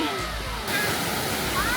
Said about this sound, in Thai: ดู สิ น้ำตกสวยมากน้ำตกกระอ่าง